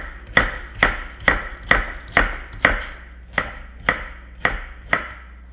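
A knife chops root vegetables, including lotus root, into small pieces on a cutting board, landing in about ten crisp, evenly spaced strokes, close and clear, with no talking.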